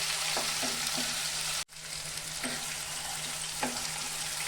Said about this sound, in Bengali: এই মশলাটা আমার ভাজা হয়ে গেছে